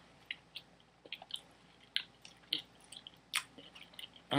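Close, quiet chewing of a spicy beef Jamaican patty, with soft wet bites and crisp pastry crunches coming in irregular bursts, no talking.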